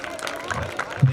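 Spectators at a schools football championship applaud the runner-up team, ARPS Panthers, a brief burst of crowd clapping mixed with voices, loud and close.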